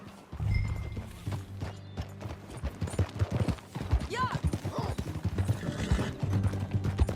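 Horse hooves clip-clopping on a ride in the video game Red Dead Redemption 2, a steady rhythmic gait with occasional snorts, running under spoken dialogue and a brief word from a rider.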